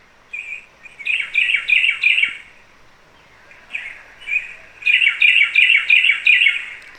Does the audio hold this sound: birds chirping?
yes